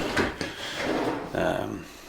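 Kitchen cutlery drawer, soft-closing, sliding open or shut: a few soft wooden rubs and knocks spread over two seconds, close and moderately loud, with faint room noise.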